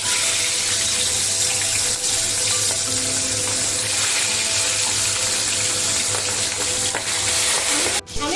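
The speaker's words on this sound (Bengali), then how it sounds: "মাছগুলো ভাজার জন্য কড়াইতে সর্ষের তেল দিয়ে দিয়েছি। আমি এবার এক এক করে মাছগুলো ছেড়ে নিচ্ছি।" Boal fish pieces frying in mustard oil in a wok, a loud continuous sizzle with a steady hum underneath, ending in a sharp clatter near the close, no talk.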